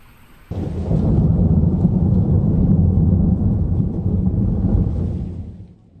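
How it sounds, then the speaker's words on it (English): A sudden deep roll of thunder from a strong storm, with heavy rumbling that sustains for several seconds, then fades out. "we got some sound from when the storm hit Cyprus"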